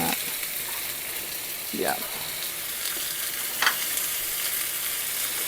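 Food sizzles and simmers steadily in a pan at moderate level, with a brief voice sound and a small clack partway through.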